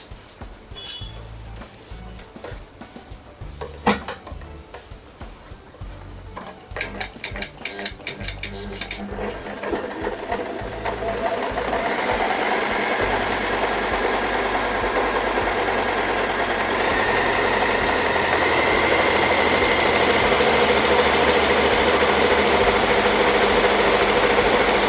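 A Usha Janome sewing machine starts with scattered clicks and handling taps, then settles into a steady, loud mechanical stitching hum that builds and continues through the second half, with no speech.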